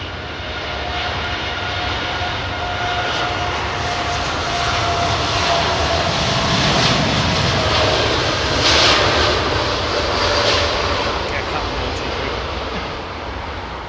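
Thai Airways Boeing 777-300ER jet taking off at night from London Heathrow runway 27R, a loud, steady engine roar that swells slightly mid-way and holds without any pause.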